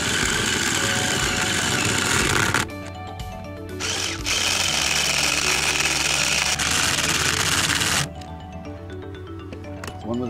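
A power drill drives M5 by 15 mm panhead bolts into a wooden beehive during assembly, whirring loudly and steadily with brief pauses and shifts in pitch as each bolt seats.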